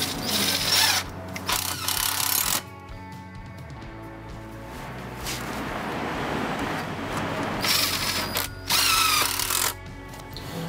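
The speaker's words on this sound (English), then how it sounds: "we're going to attach the joist cradle to the plastic lumber using standard countersunk wood screws" Countersunk wood screws driven into a plastic lumber joist cradle with a power drill, loud whirring bursts of driving separated by a quieter stretch, ending with another short run.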